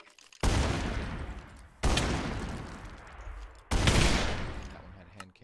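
Three loud gunshot blasts from a hand cannon fired by tech guns mobs in modded Minecraft 1.7.10, each a sharp sudden crack with a decaying boom, spaced about 1.5 seconds apart, with no talking.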